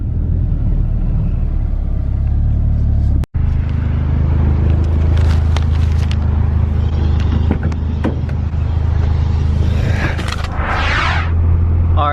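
Honda Prelude Type SH driving after an alignment, a steady loud cabin rumble of road and engine noise throughout, with one brief dropout and some rattles and whooshes later on.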